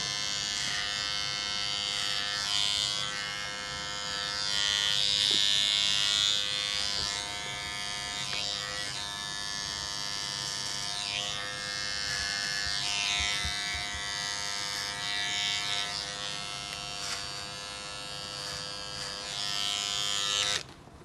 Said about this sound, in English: I'm actually going to shave this away.